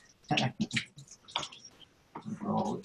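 Water runs from an electrolysis water machine in uneven splashing bursts, loud and close, pausing briefly and then pouring again.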